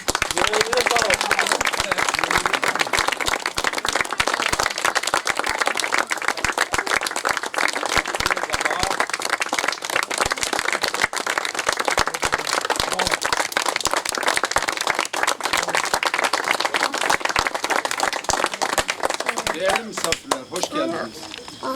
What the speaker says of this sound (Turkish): Bir daha alkış alıyoruz sizden.